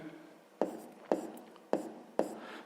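A pen writes on paper in a math exercise, four distinct scratchy strokes spaced about half a second apart, close and clear with no talking.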